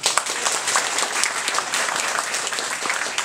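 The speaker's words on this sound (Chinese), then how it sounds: "我们大家一起鼓掌" Church congregation at a baptism service breaking into steady, dense applause, many hands clapping together throughout at moderate loudness with no voices over it.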